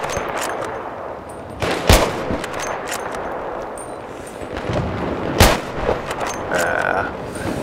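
Gunfire in Battlefield 3 during sniper play on Tehran Highway, with two loud sharp shots standing out over a constant rumbling battlefield background and scattered fainter pops.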